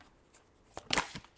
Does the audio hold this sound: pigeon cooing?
no